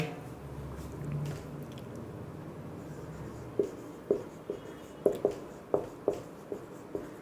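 A pen writes on paper with soft scratching, then a run of sharp taps and strokes in quick succession, close and quiet, alone without talk.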